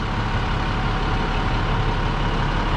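A fire engine's pump runs on a BR 122 brush rig during wildland hose operations, a steady low mechanical engine drone, close and unbroken, with no voices.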